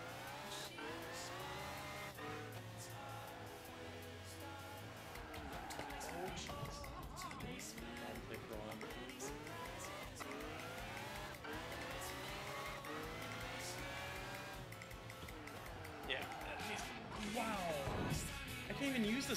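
A race car in a PlayStation racing game drives around a track: a continuous engine drone rising and falling through gear shifts, with tire squeal and revving, under steady background talk from players.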